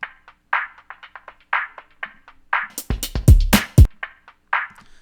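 Thin, band-pass filtered music with everything below 500 hertz sharply cut sounds tinny and telephone-like, with sharp percussive hits poking through midway.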